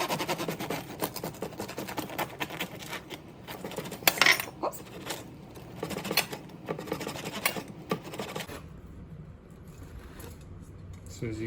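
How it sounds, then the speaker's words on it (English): A knife saws through a crusty sourdough loaf, giving a dense run of close crackling, rasping strokes that stop abruptly, followed by quieter faint rustling. "we're gonna cut into the first loaf and take a look how it looks"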